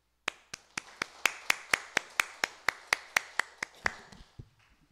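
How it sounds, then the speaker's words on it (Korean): An audience at a Won Buddhist dharma talk claps in unison, giving about fifteen sharp, evenly spaced claps at a steady tempo. The claps are moderately quiet and alone, then stop, leaving a faint tail near the end. "감사의 큰 박수 부탁드리겠습니다"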